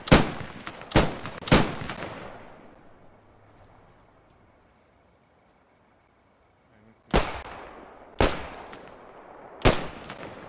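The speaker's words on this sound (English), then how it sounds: "Shooting into the dark." Gunshots in the dark during a night battle in Post Scriptum, sharp loud single reports fired in two clusters of three with a quiet lull between them, each crack trailing off in an echo, and faint voices in the background.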